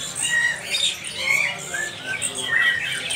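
Caged birds at a bird market squawk and chirp in a busy overlapping chorus, sharp high calls repeating close by over a faint background bustle.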